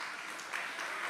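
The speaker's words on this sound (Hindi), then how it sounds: "तालियां पीते जाइएगा" Audience applause at a Jain community convention, heard as a soft, fairly distant wash of clapping that holds steady for about a second with slight swells.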